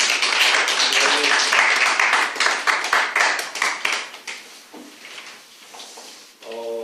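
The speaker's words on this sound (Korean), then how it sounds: "우리 하나님께 영광의 박수 올려드립니다." Applause during a Korean church New Year's Eve service, a steady burst of clapping from the congregation that fades out partway through, followed by a voice beginning to speak.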